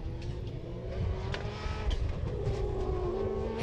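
A rallycross car at Pembrey accelerates hard out of a corner, its engine note climbing and revving loudly and close, with a rough, buzzy tone throughout.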